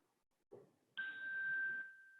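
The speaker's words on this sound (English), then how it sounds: "Invite the sound of the chime to your ear." A meditation chime is struck once, ringing with a clear, pure tone that holds steadily and fades slowly in a quiet room, preceded by a soft tap.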